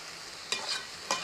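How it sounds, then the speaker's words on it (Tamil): Vegetable cutlet mixture with garam masala stirred in a pan, two short scraping strokes of a spoon over a faint steady sizzle, close and fairly quiet. "ஒரு 1/2 ஸ்பூன் கரம் மசாலா போட்டு நல்லா இலக்கி விட்டுருங்க."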